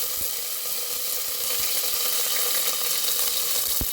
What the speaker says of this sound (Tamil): கடுகு பொட்டுனதும் கருவேப்பிலை சேர்த்துடலாம்.